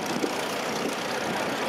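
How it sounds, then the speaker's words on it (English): A vintage Case Model S tractor idling at an outdoor steam and country rally in the UK, a steady, continuous engine rumble with a broad background wash and no voices. "A Case Model S."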